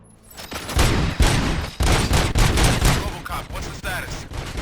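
Rapid gunfire from robots in the video game RoboCop: Rogue City, a loud dense fusillade of overlapping shots and bursts running almost continuously, with heavy low-end impacts.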